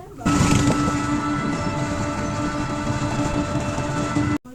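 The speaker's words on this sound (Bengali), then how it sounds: "তো দেখো এখন ট্রেনটা যাচ্ছে" A train passing a closed level-crossing gate at New Baneshwar, a continuous loud rolling rumble with a sustained tonal whine, heard close by from start to finish before cutting off abruptly.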